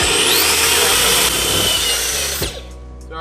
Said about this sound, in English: Sorry. Drilling.